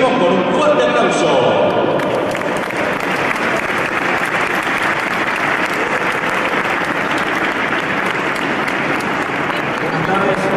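A lecture audience bursts into sustained, dense applause that holds steady and loud for about ten seconds, with no talking over it.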